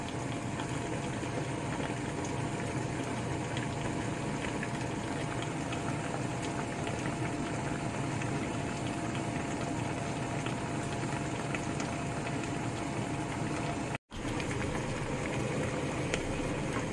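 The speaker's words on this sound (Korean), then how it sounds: "김치를 매끌매끌 맛있게 먹으려면 한 20분 이상 끓여줘야 해요" Kimchi stew with pork belly boils steadily in a covered pot, a continuous close bubbling and simmering roar that stays even throughout with one brief dropout.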